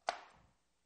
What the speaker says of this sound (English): Be chopping it in very thin slices